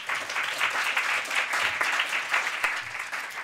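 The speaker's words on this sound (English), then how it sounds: "So please give them a round of applause." An audience applauds panelists at the close of a discussion on race and wealth inequality, a dense, steady burst of clapping from a crowd that holds level throughout, close and full, with no talk over it.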